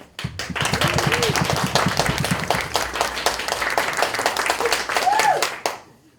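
Audience clapping at a literary festival event, starting with a few rhythmic claps then swelling into a dense, close round of applause with a few voices calling out, ending abruptly.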